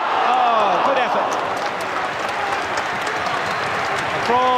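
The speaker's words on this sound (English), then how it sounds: "Applause from the crowd" Football crowd at a 1989/90 Southampton v Manchester United First Division match applauding an attacking move, broad steady stadium clapping and murmur under a commentator's voice that drops out mid-clip and returns at the end.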